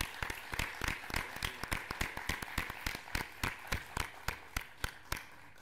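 Rhythmic applause at a book presentation in a chamber, an audience clapping in unison with sharp, evenly spaced beats, roughly four per second, carrying on steadily throughout.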